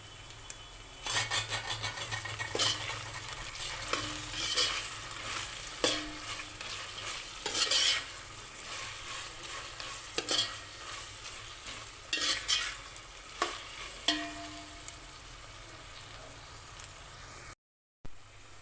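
Potatoes with added ginger garlic paste fry in a pan for bagara rice, stirred in repeated scraping bursts over a low sizzle, close and clear with no speech.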